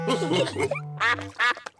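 A cartoon duck quacks in a rapid, nasal series of loud, close squawks, with a short pause before two more quacks, set beside a duck pond in a children's animated episode.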